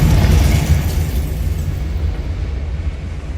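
A Confringo fire spell explodes in Hogwarts Legacy, a loud, deep rumbling blast that dominates from the start and slowly decays over a few seconds, with no voices over it.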